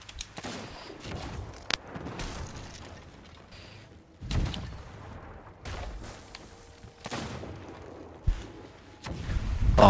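Cannon fire and an exploding barrel in the Sea of Thieves video game: several irregular booms and blasts hit at varying loudness over a busy background of game noise.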